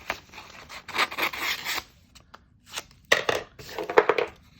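Scissors roughly cut a clipping out of a magazine page for a journal, with a few bursts of crisp snipping and rustling paper separated by short pauses, heard up close and alone.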